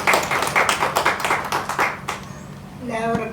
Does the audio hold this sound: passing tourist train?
no